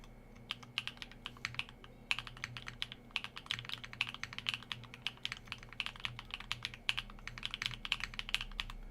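Typing on a NEO65 Cu keyboard fitted with HMX Hades switches and WinMix Cream Blue keycaps, a quick irregular patter of crisp keystrokes with occasional short pauses, close and fairly quiet, with a faint low hum underneath.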